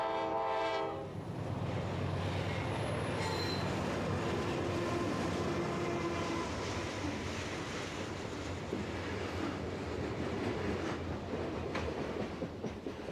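A CSX westbound freight train hauled by a mixed lash-up of EMD and GE locomotives pulls out of Brunswick, Maryland, with a horn blast at the start and a steady loud rumble and wheel noise throughout.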